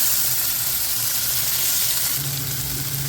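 Curry leaves and onion dropped into hot oil for ragi upma, crackling in a loud, dense, continuous sizzle heard up close without any talking.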